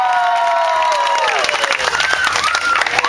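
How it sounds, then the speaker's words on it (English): Festival crowd at Floyd Fest applauding and cheering, a loud burst of clapping with whoops, while a high sustained tone glides downward over it and a faint voice comes through. "this audience is going to give you a huge round of applause"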